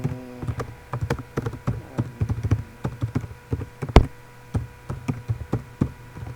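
Fingers tap quickly on a computer keyboard in irregular bursts of crisp, close clicks, with one sharper key strike midway and no voices.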